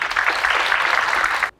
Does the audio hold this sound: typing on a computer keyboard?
no